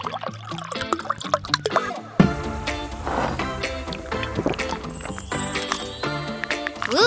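A carbonated soda drink is poured into a glass, starting with light clinks and drips, then a sudden splashing pour that gives way to steady crackling fizz and popping bubbles, up close with no talk.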